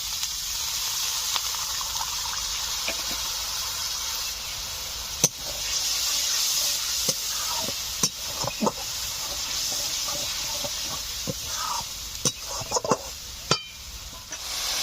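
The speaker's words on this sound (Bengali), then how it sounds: "সামান্য একটু জল দিয়ে দিচ্ছি।" Spices for a ritha fish curry sizzling in a pan just after a little water goes in, giving a constant close steamy hiss broken by scattered pops and crackles.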